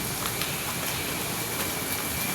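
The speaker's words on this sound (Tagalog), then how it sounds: "Ay, lakas ang ulan guys." Heavy rain pours steadily at a Lazada drop-off point on Tomas Mapua street as evening falls, a dense, even hiss with faint drop ticks and no voices.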